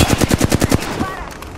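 Gunfire in Apex Legends: a rapid automatic burst of about eight loud, close shots in even rhythm, then a quick fade with faint clatter.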